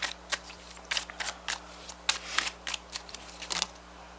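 A deck of tarot cards being shuffled by hand: a quick series of close, papery riffling and slapping bursts in uneven rhythm, with no voices.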